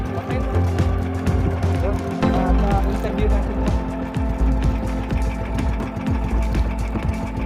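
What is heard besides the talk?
boat engine running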